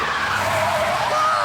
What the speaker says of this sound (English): making the driver lose control and crash.